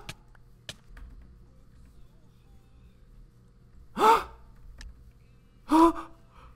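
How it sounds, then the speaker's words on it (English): Two sharp, breathy gasps during a Minecraft Blitz Survival Games match, the first around four seconds in and the second near the end, each short and fairly loud over a quiet background. "Those gasps, though."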